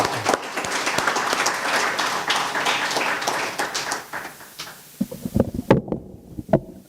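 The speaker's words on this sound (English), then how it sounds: "let's give a round of applause for that" A crowd at a track and field meet launch applauds with dense, steady clapping that thins into scattered individual claps toward the end.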